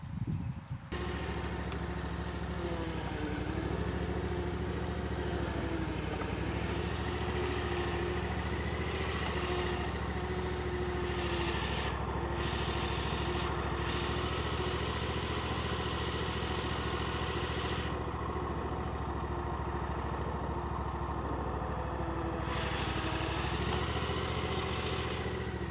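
A Badboy Maverick riding mower's engine runs steadily at idle close by, a continuous mid-pitched drone with a low hum that keeps an even level throughout, with no voices over it.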